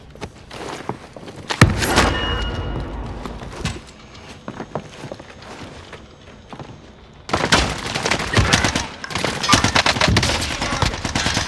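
C58 rifle gunfire in Warzone: loud, sharp shots scattered at first, then dense rapid bursts of many shots over the final seconds.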